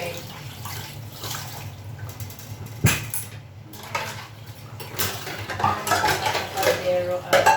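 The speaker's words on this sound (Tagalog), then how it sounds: "Hugasan ng ating cutting board." Cutting board washed at a kitchen sink, with running water, clinks and knocks of dishes and utensils, and a sharp clatter partway through, growing busier toward the end.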